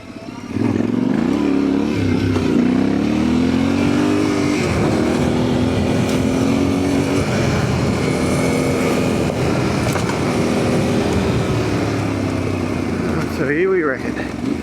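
An adventure motorcycle on a rough bush track through pine plantation country, engine droning loud and close with rising and falling revs as the rider works the throttle, a voice talking over it throughout.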